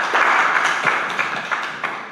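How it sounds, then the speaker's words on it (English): Audience at a UTS startups event giving a short round of applause, dense clapping close by that gradually tapers off over two seconds. "Can we get a little thank you round of applause to start"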